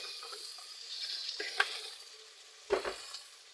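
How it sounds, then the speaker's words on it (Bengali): Fried pointed gourd and potatoes are stirred into a pan of spiced curry, giving a soft sizzle with a few scraping stirs and one louder clatter, faint and close. "আর ভেজে রাখা পটল আলুগুলো দিয়ে পাঁচ মিনিট কষিয়ে নেব"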